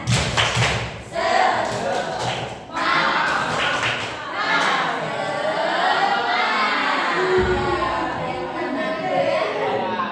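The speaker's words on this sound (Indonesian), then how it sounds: "Ayo, tepuk semangat." A school class does a rhythmic spirit clap in a classroom: several sharp, unison claps and thumps in quick succession early on, then children's voices shouting and chanting together, loud and close.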